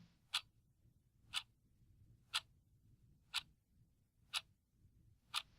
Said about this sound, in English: The sound of a clock ticking loudly might be an example